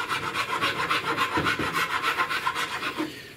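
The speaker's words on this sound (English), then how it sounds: "You may need to use a wood file above sandpaper" A wood file rasps across the wood of an old chair being rebuilt into a throne, making steady, rhythmic back-and-forth scraping strokes that are close and fairly loud, with no voices.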